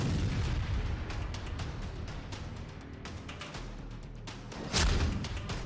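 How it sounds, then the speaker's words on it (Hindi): A boat at sea is blown up in a military strike: a dense, roaring rumble of blast noise fills the clip, then a sharper, louder burst hits near the end. "अमेरिकी स्ट्राइक के बाद आग का गुबार उठा और एक ही धमाके में पूरी बोट तबाह हो गई।"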